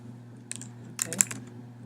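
A few soft, close keystrokes on a computer keyboard while typing notes into an online document, a short scattered burst of clicks over a low steady hum.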